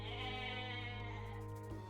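A goat in the real-time strategy game Age of Mythology gives a drawn-out, tonal bleat that wavers through its length, heard clearly over a steady game hum with no talk.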